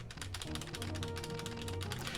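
Typing on a keyboard with Cherry Red switches, a rapid, continuous run of soft, fairly muted key clicks in quick irregular rhythm, close and alone over a faint tonal background.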